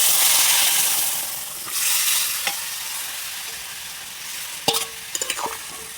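Vegetables tipped into a hot pan with ground coriander, cumin and turmeric for a thin prawn curry with bottle gourd greens and potato, giving a loud broad sizzle that eases off, then a few sharp clinks of stirring.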